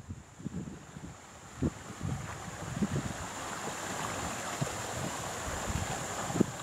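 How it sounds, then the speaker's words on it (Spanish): Waterfall among pine trees near abandoned houses in the Pocono area of Pennsylvania, a steady rushing wash of falling water with wind gusts thumping the microphone, heard without speech. "la cascada"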